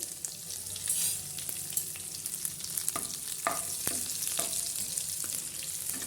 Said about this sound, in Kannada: ಸ್ವಲ್ಪ ಹಸಿಮೆಣ್ಸಿನ್ಕಾಯಿ ಇವು ಸ್ವಲ್ಪ ಫ್ರೈ ಆಗಲಿ